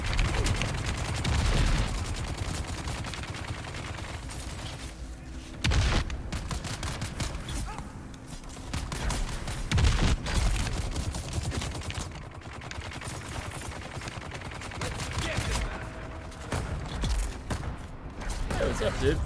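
Rapid bursts of gunfire from a combat scene in the video game Dune: Awakening, dense and continuous over a rumbling game soundscape, with voices speaking excitedly at times.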